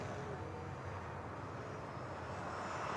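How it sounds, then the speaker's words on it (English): Cars on Touristfahrten laps of the Nürburgring Nordschleife make a steady, distant engine roar that drones on evenly without breaks, with no voices over it. "you can hear the cars in the background doing the Touristfahrten on the Nordschleife"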